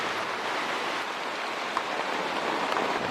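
Rain falls steadily and evenly indoors, a dense close hiss of drops with a few faint taps and no talking.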